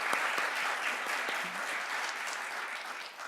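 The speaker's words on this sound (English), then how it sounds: "Can we please give her a round of applause?" An audience at a spring lecture claps steadily, a dense patter of many hands that holds for a few seconds and then fades slightly.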